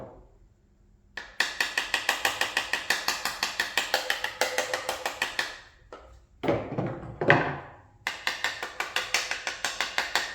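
A run of rapid, regular wooden tapping and knocking as a Colt M16A1 rifle buttstock trapdoor is opened, close by, broken by a couple of louder clacks and brief pauses, with no voices.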